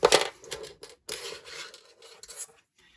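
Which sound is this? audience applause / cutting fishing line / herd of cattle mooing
cutting fishing line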